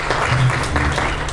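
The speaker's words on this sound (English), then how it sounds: "Give Lord a hand clap of praise." A church congregation claps in praise, a dense, steady wash of hand claps at fairly close range, with a faint voice briefly audible underneath.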